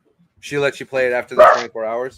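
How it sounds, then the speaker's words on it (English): A dog barks in several loud, closely spaced yips and woofs near the microphone, overlapping a person speaking on a phone call. "Sorry about my dog."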